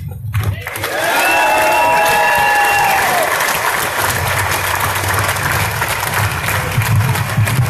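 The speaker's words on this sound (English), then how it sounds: "Big round of applause for Nate, guys." Rally crowd in Tallahassee, Florida bursts into loud, sustained applause with some cheering, the clapping swelling after a second and holding steady to the end.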